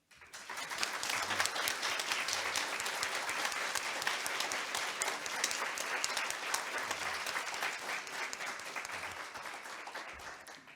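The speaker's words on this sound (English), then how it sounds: "I hope you heard that applause" Sustained audience applause closing a keynote at a library and information professionals' conference, dense steady clapping lasting about ten seconds at a moderate, slightly distant level, with no one speaking over it.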